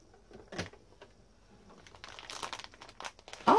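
A Foodsaver vacuum sealer closes on a plastic bag, giving soft crinkling and clicking with a louder mechanical burst near the end, faint and close, no talking.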